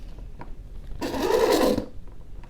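A sewing machine runs in one short burst of under a second while stitching a seam on a boxed zipper pouch, close and steady, with quiet room noise before and after.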